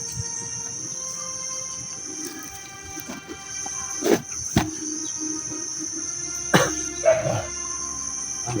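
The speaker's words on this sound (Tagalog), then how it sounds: "May aso na." A few sharp dog barks at moderate distance, scattered irregularly over a constant chorus of insects buzzing and chirping.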